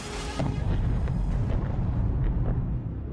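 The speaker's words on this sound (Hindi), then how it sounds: "तीसरा धमाका" Deep, roaring bomb explosion rumble from the war in Ukraine that stays loud and dense for several seconds, with scattered crackles over a low booming roar.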